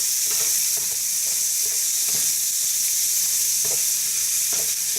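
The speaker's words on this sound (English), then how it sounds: "so that the liver and the onions can both pick up the flavor of each other, and just let that cook away for about a minute" Liver and onions fry together in a pan with a steady, close sizzle and faint stirring scrapes, with no talking.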